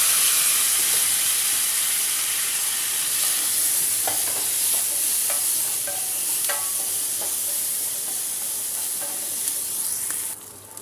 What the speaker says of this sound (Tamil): இப்போ இந்த ஆயிலில் நல்லெண்ணெயில் போட்டு நல்லா வதக்கிட்டு இருக்கேன்